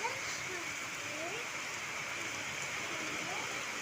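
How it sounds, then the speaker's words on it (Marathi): Heavy rain pours down on a JCB outside, a dense, steady hiss filling the whole moment, with a faint voice-like murmur underneath. "अतिशय जास्त प्रमाणात पावसाने फेरा घातलेला आहे"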